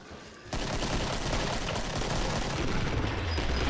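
Rapid M9 gunfire in the Killing Floor video game, a dense, sustained burst of shots that starts abruptly and continues loudly without pause.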